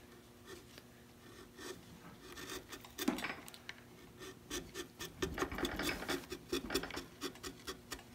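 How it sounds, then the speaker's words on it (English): A sharp chisel shaping wood gives repeated scraping and paring strokes in uneven bursts, close but fairly quiet, with no speech. "See what an advantage it is to having a good sharp chisel."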